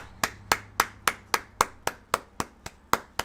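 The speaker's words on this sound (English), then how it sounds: "Give me a round of applause, everybody." A single person claps alone, about a dozen sharp, close hand claps. They come at an even, deliberate pace roughly a quarter second apart, with quiet gaps between them.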